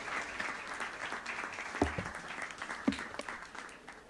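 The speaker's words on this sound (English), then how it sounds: "Let's have a huge round of applause, everyone, for Ms. Monica Romelina Sijabat here with u" Scattered applause from an audience welcoming a speaker to a business event, fairly faint and thin with a couple of sharper claps standing out, steady for the whole stretch.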